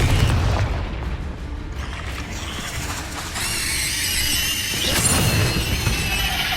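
A Confringo fire spell blasts in the Hogwarts Legacy video game, a booming explosion with crackling, shattering debris over dense game sound, swelling again near the end.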